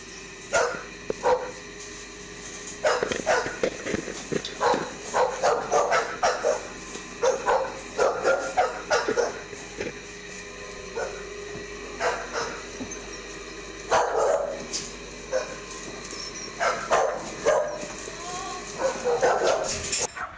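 Dogs at a crowded puppy mill bark in repeated bursts from an open shed, several animals overlapping with yips and whimpers, some near and some farther off, with quieter gaps in between.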